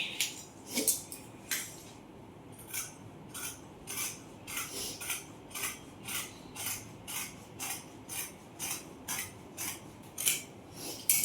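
Scissors cut through silk skirt fabric in a steady series of crisp snipping strokes, roughly one per half second, close and fairly quiet, with no talking.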